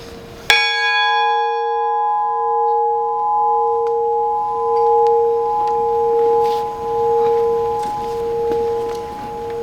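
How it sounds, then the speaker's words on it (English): A memorial bell tolls once in a Great Lakes mariners' commemoration for the SS Edmund Fitzgerald and crew, a sharp strike followed by a long, steady ringing hum that sustains and slowly pulses for several seconds, alone. "The 30th and final tolling of the bell is in honor of all mariners lost on the Great Lakes."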